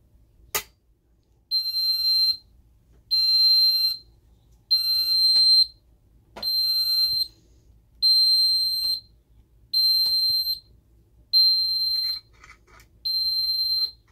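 Ademco 6137R carbon monoxide alarm zone sounding a loud, steady intermittent beep, about nine evenly spaced bursts of roughly one second each, alone with no talk.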